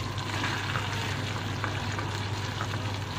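Homemade pizza sauce simmers in a pan over low to medium heat, giving a soft, steady sizzle and bubbling up close with no talking.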